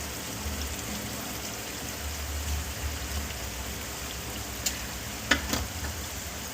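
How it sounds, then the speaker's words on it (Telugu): Chicken frying in a pan with tomato, onion and ginger-garlic paste, a steady close sizzle with a few sharp clinks near the end. "టమాటా, ఉల్లి, అల్లం వెల్లుల్లి పేస్ట్ వేసుకొని ఫ్రై చేసుకున్నాను."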